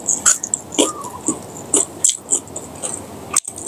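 Crisp crunches come close up as someone bites into deep-fried crunchy chicken tendon, in a run of irregular sharp snaps and chewing with short pauses, and no clear talk.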